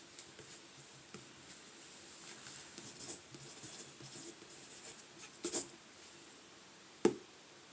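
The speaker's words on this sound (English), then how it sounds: "she's probably writing something down" A pen scratching on paper as someone writes in a quiet room, soft intermittent strokes with a couple of sharper taps, faint and close.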